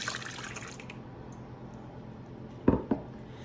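Whole dairy milk pours into a bowl of eggs close by, a soft running liquid stream that fades out, followed by a couple of sharp clinks against the bowl.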